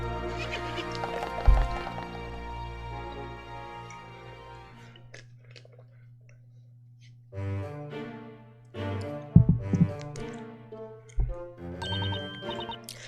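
A horse whinnies in a riding minigame from Professor Layton and the Miracle Mask, its cries ringing out over a sustained musical tone, followed by chiming game music.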